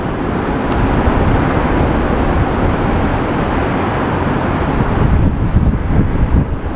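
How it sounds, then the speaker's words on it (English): Strong wind buffets the microphone outdoors, a loud, constant roaring rush with gusty swells that never lets up, and no voices are heard. "The wind's blowing from the wrong direction."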